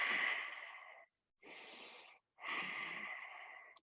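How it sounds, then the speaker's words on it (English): Three long breaths during a yoga pose, heard close and soft, each a drawn-out airy rush separated by brief silent pauses. "3 more breaths here"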